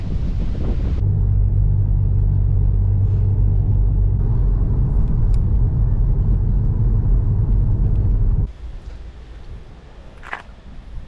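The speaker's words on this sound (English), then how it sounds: "I'm going to jump back in the car and go to the next spot." Car driving along the coast in Australia, a steady loud low engine and road rumble with some wind buffeting, dropping to a quieter rumble near the end.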